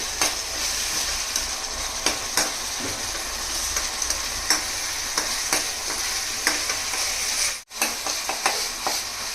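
Mutton browning in a pot with ginger-garlic paste, a continuous bright sizzle with scattered scraping stirs and clicks, close and steady, briefly cut off near the end.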